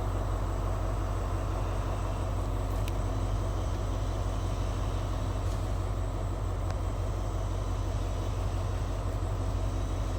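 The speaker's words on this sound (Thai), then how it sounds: "ขบวนด่วนพิเศษ ทักษิณารัฐ ที่31เข้าโค้งนครชุมมาแล้วนะครับ" Thaksinarat express train No. 31 rounding the Nakhon Chum curve, heard as a steady low rumble of rolling stock and engine that holds at an even level throughout, with no talk over it.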